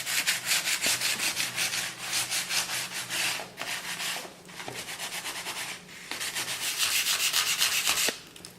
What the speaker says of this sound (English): rubbing off the paint in spots